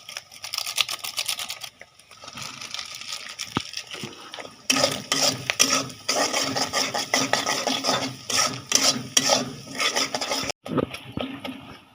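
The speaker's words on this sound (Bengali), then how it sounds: "ডিম ভাজা ভাজা করে ফেলছ" An egg fries in a pan while a utensil scrapes and stirs it in uneven bursts of rasping, close-up clatter, with short pauses between strokes while noodles are being cooked.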